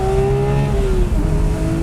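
A Porsche 991 Speedster engine, 500 horsepower, revs hard and rises through a gear shift, its loud howling tone dipping briefly at the change then climbing again, close and alone.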